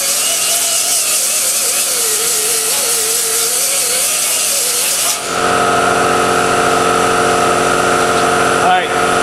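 An 80 grit abrasive disc grinds a weld with a loud, continuous whining rasp, then the pitch and tone change partway through as the grinder runs on steadily.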